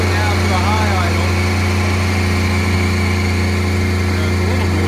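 A 2019 Freightliner M2 truck runs at high idle, its exhaust giving a steady, loud, close low rumble with constant hum throughout, somewhat noisier than a standard idle.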